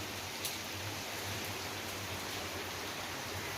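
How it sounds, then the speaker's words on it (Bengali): Heavy rain falls as a steady, even hiss, continuous and fairly subdued throughout, with no talking. "আর বৃষ্টিটা, কি মারাত্মক বৃষ্টি বন্ধুরা।"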